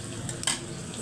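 Vegetable curry with beans, potato, eggplant and tomato cooking in a pan, a steady close sizzle with a brief scrape of a utensil partway through.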